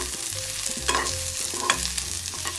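Thin lengthwise-sliced onions sizzle in hot oil with browned garlic and curry leaves for a capsicum fry, with steady frying hiss broken by several scraping stirs of a spoon against the pan.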